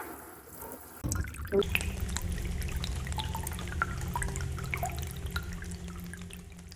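Fabric is pre-rinsed in a sink before dyeing. After a second of near quiet, steady water starts running and trickling, with scattered drips over it, all fairly soft and close.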